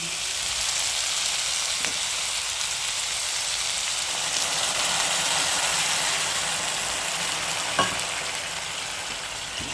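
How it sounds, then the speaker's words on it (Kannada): A steady, loud sizzling hiss as hot water is poured into a sizzling spice tempering for a lotus stem stir-fry, continuing throughout with a couple of faint clinks. "ಬಿಸಿನೀರು ಕಾಯಿಸ್ಕೊಂಡಿರ್ತೀನಿ ಇದನ್ನ ಈಗ ಹಾಕ್ತೀನಿ"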